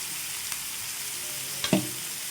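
Tandoori chicken pieces fry in oil in a pan with a steady, close hiss of sizzling, broken by one brief clatter of a utensil near the end and no speech.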